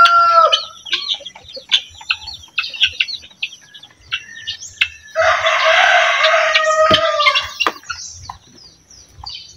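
Native chickens cluck and chatter close by in a backyard, and partway through a rooster lets out a loud, sustained crow over the flock's steady noise.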